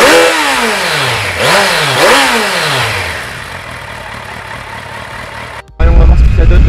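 A Kawasaki Versys 1000 motorcycle engine and exhaust, loud and close, revving through several rising and falling sweeps, then settling, before a sudden burst of louder roar at the end.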